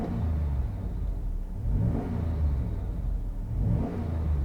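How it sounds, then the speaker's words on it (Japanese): The V8 engine of a 1999 Chevrolet Suburban LT 4WD with an aftermarket muffler idles with a deep, burbling rumble and is revved in three slow swells, each rising and falling back. "重低音でドロドロいう感じで、いかにもアメリカン V8 という感じ"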